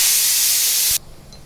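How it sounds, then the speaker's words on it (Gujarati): Red chili hitting hot oil for tempering Gujarati dal dhokli makes a loud, steady, close hiss lasting about a second, then cuts off sharply into quiet. "તેલ ગરમ થાય એટલે આપણે એમાં લાલ મરચું,"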